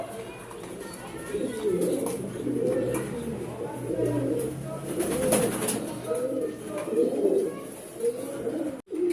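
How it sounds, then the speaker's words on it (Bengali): Racing pigeons coo repeatedly nearby in low, throaty, rolling calls that overlap one another with a soft background hum. "তো দুইটা কবুতর একসাথে এই যে মাত্র করলাম আপনাদেরকে দেখানোর জন্য"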